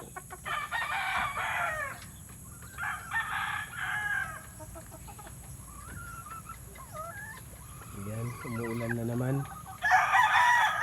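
Roosters crow repeatedly among clucking chickens in a backyard flock of native Filipino fowl, with a dog barking briefly and a voice talking at moments; the crowing comes mid-distance, loud bursts separated by short pauses.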